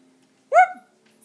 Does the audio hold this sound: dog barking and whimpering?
yes